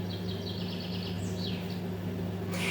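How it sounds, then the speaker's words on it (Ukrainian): A small bird sings loudly outside a window, its repeated high chirps and trills carrying indoors over a steady low hum, fading out partway through. "пташка голосно співає."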